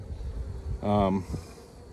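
Honeybees buzzing close by at a hive, including larger male drones, a rising droning hum for about half a second amid a low, busy background murmur of insects.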